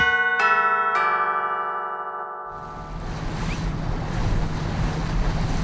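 Ringing bell chimes fade into the broad wash of sea waves and wind on arrival by boat at the Italian port of Otranto, a steady, fairly loud surf rush with wind buffeting the microphone and no talk.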